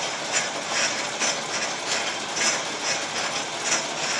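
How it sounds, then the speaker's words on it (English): On a metal lathe, the compound rest handwheel is cranked inward, giving a steady run of light, regular mechanical clicks and ratcheting ticks over a constant machine hum, close and fairly loud with no talking. "take your compound rest and turn it in 5/1000ths of an inch"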